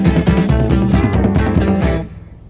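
A live recording plays on a 1982 Perpignan radio broadcast: a full, loud rock band with driving rhythm that fades out near the end.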